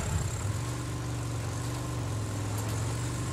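A motorcycle engine in a video game idles and drones with a steady low hum, holding even and continuous throughout with no talk over it.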